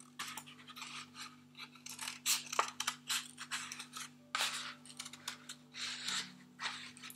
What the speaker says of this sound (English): remembering to be very careful with the scissors